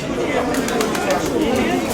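Pigeons cooing at a crowded pigeon fair in Kyiv, low soft coos under constant nearby chatter and voices of people talking.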